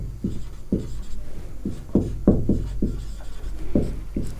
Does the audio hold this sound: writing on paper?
yes